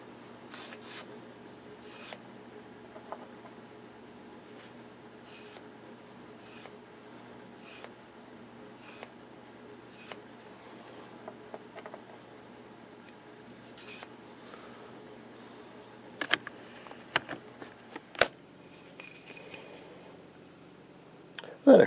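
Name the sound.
sanding filler on a Philco 49-901 radio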